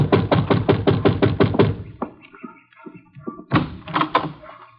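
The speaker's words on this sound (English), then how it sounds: "Yeah, you better knock again." A radio-drama door knock: seven quick raps on wood in a steady run, loud and close, then a pause of small shuffling sounds before two more short bursts of knocking.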